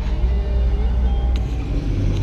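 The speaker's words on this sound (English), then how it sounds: "a whole bunch of cars just went by" Cars pass along Woodward Avenue at dusk, a steady low rumble of traffic with a soft passing whoosh partway through, moderately close and continuous.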